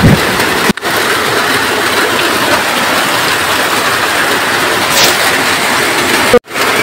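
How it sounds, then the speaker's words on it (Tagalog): Heavy rain pours down in a steady, dense roar that fills the whole clip, broken only by two brief dropouts. "nung kusog man hinuog maayo ang uwan"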